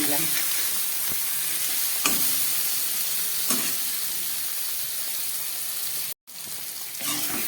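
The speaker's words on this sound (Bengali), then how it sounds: "পেঁয়াজ টমেটো জিরে ধনে লঙ্কা দিয়ে মাছটাকে খুব ভালো করে কষিয়ে" Catla fish frying in a pan with onion, tomato, cumin, coriander and chilli, a steady close sizzle with intermittent stirring scrapes and a brief break near the end.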